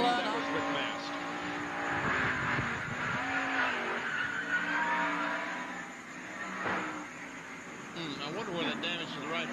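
Race car crash on the front stretch of a NASCAR oval, with squealing, skidding tires and roaring engines blending into a dense, sustained wash of track noise under commentator talk.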